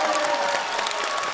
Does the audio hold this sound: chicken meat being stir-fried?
no